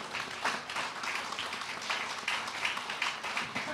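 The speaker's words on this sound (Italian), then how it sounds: "Un applauso all'autrice." Applause at a literary award ceremony honouring a woman author, a steady wash of many hands clapping with overlapping claps throughout, moderately loud and continuous with no talk over it.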